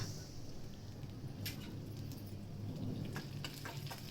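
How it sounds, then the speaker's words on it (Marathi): Garlic and curry leaves sautéing in hot oil make a steady, fairly quiet sizzle with faint stirring scrapes throughout, and no voices. "लसूण कढीपत्ता चांगला परतून घ्यायचा."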